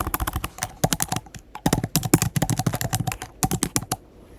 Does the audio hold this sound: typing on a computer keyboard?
yes